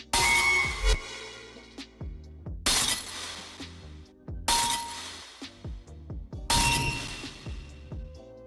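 A deathstep drop built in Ableton hits four times, each a loud burst of layered blast breaks with feedback, a bell and a reverse yoink, separated by gaps holding sharp transient hits and low tones.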